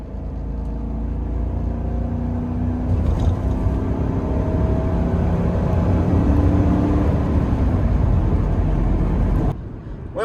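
A car being driven at speed after a transmission shudder treatment, with some torque converter vibration left around 45 mph, makes a steady loud road and engine drone that rises in the middle and then cuts off near the end.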